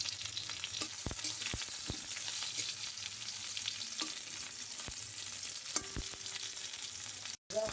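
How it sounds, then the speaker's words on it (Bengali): Fish frying in hot oil in a home kitchen, with a steady broadband sizzle running throughout, punctuated by a few sharp crackles and spatters; no voices are heard. "কাটা হয়ে গেছে, এটা ভেজে রেখে দেব।"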